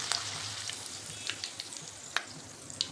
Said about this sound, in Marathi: मिरची तळताना जपून कापून घेतली तरी सुद्धा उडते